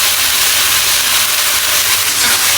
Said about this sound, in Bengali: তো একটু ভেজে নিচ্ছি।